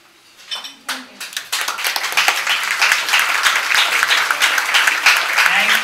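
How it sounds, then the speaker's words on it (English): Audience applause after a talk, starting with a few scattered claps and swelling within about two seconds into dense, sustained clapping from a crowd, with a voice briefly heard over it. "People, big applause for Laura."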